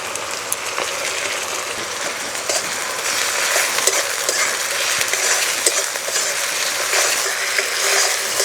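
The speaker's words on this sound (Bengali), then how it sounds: "একটু নেড়ে পেঁয়াজ টমেটো নরম করে নেব" Chopped onion and tomato sizzling in hot oil in a pan with spices, a dense continuous frying hiss with light scraping of a spoon as it is stirred, close and loud, no talking.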